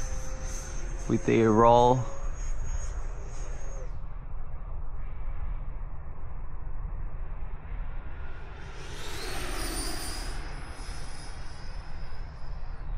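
3D printed RC sport jet with a 90mm electric ducted fan flying at full throttle, a whooshing fan roar swelling as it passes nearby, then fading, under someone talking and a brief bird call.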